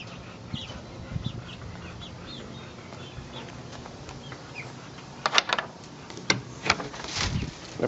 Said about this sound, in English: the chickens are in there making themselves at home